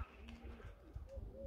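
Pigeons coo softly and close by in a low, repeated murmur over quiet outdoor background, with no talking.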